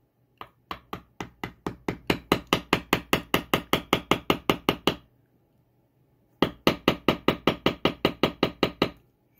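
A wooden strike stick hits a carving tool like a mallet in a fast, even run of sharp knocks, close and loud. The run pauses for about a second, then resumes at the same pace.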